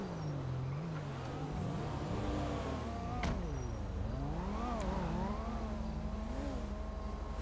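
A Coquette sports car in a video game drives through traffic, its engine revving up and down continuously with gear-shift swoops, steady and fairly faint, with no talking.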